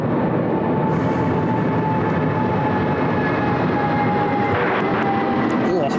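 An airliner takes off from a Sydney Airport runway, a loud, steady engine roar and rumble filling the whole stretch without letup, with faint radio chatter underneath.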